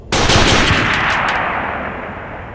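Rifle gunshots ring out as a loud sharp blast that opens into a long reverberant decay, with a few quick follow-up cracks fading over a couple of seconds.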